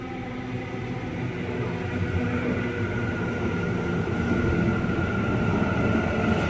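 A Sydney City Circle train rumbles steadily nearby at a platform, a continuous low roar with a faint tonal whine, no voices.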